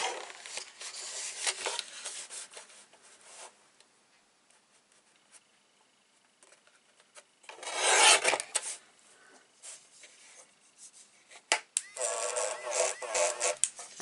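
A paper trimmer slices across a sheet of paper for a recipe album, giving a short rasping cut around the middle, with quieter handling and rustling of paper before and after.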